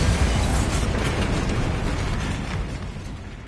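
A Bombarda spell blast in Hogwarts Legacy lands as a loud, full-bodied explosion whose rumbling roar fades away over about three seconds.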